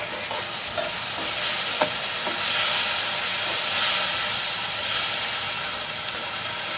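A spice paste of ginger, garlic, turmeric and dried chilli fries and is stirred in a pan, giving a steady, close sizzle and hiss with a few soft scrapes.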